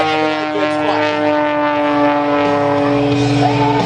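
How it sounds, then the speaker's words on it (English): Biplane engine roaring steadily during an air show flyby over Fort Smith, a loud continuous drone with strong harmonic tones and no pause. "That's pure engine power pulling Skip into the skies over Fort Smith."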